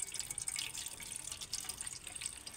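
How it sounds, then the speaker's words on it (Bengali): Watermelon juice drains through a strainer in a soft, continuous trickle of liquid, close and quiet, with no voices. "কতটা ফ্রেশ জল যাচ্ছে দেখুন, বেরিয়ে যাচ্ছে। ছাঁকনির মধ্যে দিয়ে।"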